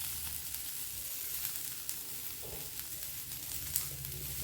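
Spice powders sizzle in hot oil in a pan while being tossed for a chickpea sundal, a soft continuous frying hiss with a few faint scrapes and light clicks, quiet and without talk.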